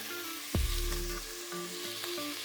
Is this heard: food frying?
yes